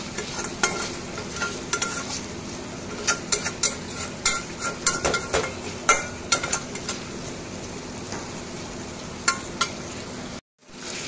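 Tomato sizzles in hot oil in a pan, a steady crackle close up punctuated by a series of sharp spatters, pops and stirring clinks, with no talking before a short silent gap near the end.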